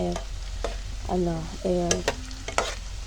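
Camote (sweet potato) fries frying in hot oil and being stirred, with a steady close sizzle broken by a few scraping stirs.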